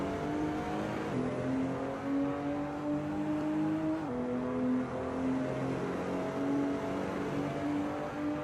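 Toyota Supra GT4 race car in a racing video game at Imola, its engine droning loud and steady with rising tonal pitch sweeps through gear changes near 1 and 4 seconds, continuous acceleration with no voices.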